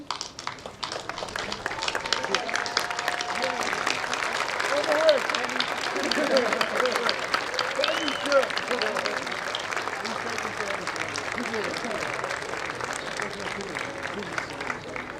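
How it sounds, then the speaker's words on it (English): A commencement audience applauds steadily for about fifteen seconds, a dense wash of clapping with crowd murmur and cheering voices mixed in at a moderate distance. "salute your faithful supporters and enthusiastic cheerleaders with a rousing round of applause for them"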